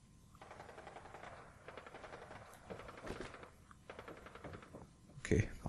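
Gunfire in the post-apocalyptic shooter Fallout 4 crackles in fast bursts of repeated shots, fairly faint and partly buried under someone talking over the game.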